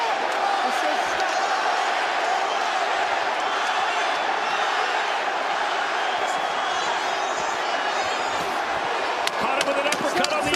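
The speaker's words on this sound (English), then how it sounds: "The crowd is on their feet as they have been for the past few rounds." A boxing crowd at the Devin Haney vs. Ryan Garcia fight stands on its feet in a late round, producing a loud, dense, unbroken roar of cheering that fills the whole stretch.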